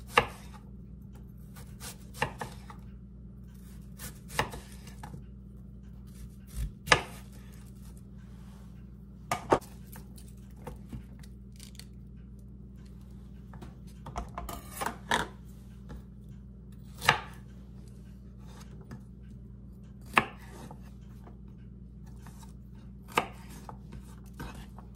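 A knife chopping an onion on a cutting board, sharp isolated knocks repeating at an uneven pace every second or two over a low steady hum, close and fairly quiet.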